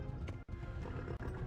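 Horse galloping in the video game Kingdom Come: Deliverance, a steady close run of thudding hoofbeats that continues throughout with only two brief dropouts.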